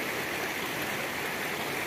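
River water flowing steadily in a continuous, even rushing wash that holds level throughout, close and fairly loud, with no voices.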